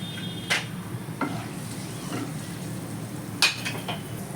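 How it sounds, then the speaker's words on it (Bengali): Bay leaves, dried red chilies, cinnamon and green cardamom crackle in hot oil as a tempering, a low steady sizzle near the pan with a few isolated sharp clinks and scrapes and no talking. "ওই তেলের মধ্যেই দুটো তেজপাতা দুটো শুকনো লঙ্কা একটা দারচিনি আর তিনটে ছোটো এলাচ ফোড়ন দিয়ে দিলাম"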